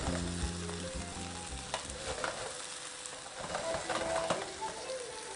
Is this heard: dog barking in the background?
no